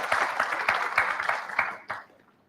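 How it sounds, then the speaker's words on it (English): Applause from a conference audience at the close of a malaria research oral presentation session, a steady mass of clapping that thins out and fades to quiet near the end. "So can we give a round of clap to all of us?"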